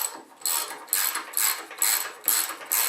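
A ratchet wrench works the flywheel bolts on a John Deere 755 compact tractor, giving about six rhythmic bursts of quick metallic clicking, close and clear with no talk.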